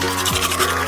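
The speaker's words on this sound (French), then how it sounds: "une dentifrice comme ça, une brosse à dents comme ça." A giant toothbrush scrubs teeth with a steady, close, hissing rub that has no clear breaks, over a low constant hum.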